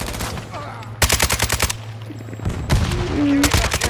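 Rapid automatic gunfire in Call of Duty: Modern Warfare II, loud close bursts of fast shots repeating in several volleys with short pauses between them.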